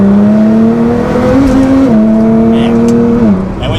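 A 600 whp Nissan GT-R R35 accelerating hard on a road, with a loud steady engine drone rising through the gears with brief dips at shifts, heard from inside the car.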